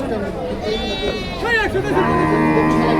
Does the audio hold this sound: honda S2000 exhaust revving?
no